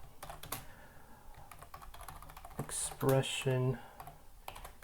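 Keystrokes tap on a computer keyboard in quick, uneven bursts while someone writes code, someone talking over the clicking at close range.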